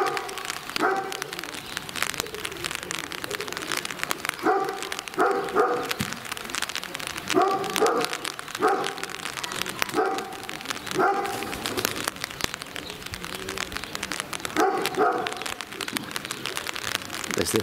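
Several farm dogs barking repeatedly in short bursts, moderately close, over a steady patter of rain and wind.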